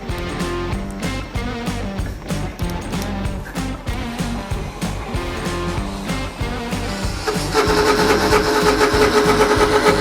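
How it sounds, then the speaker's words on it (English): A popular budget CNC machine bought on Amazon struggles as its spindle bogs down while cutting, a loud, pulsing mechanical whir with rhythmic thumps that shifts to a harsher, strained tone near the end. "I think it's stalling out the spindle"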